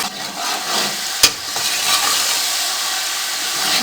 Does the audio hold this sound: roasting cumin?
yes